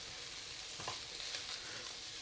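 Steady, close sizzling of pickled mustard greens stir-frying in a wok, with a few soft scraping stirs over the hiss.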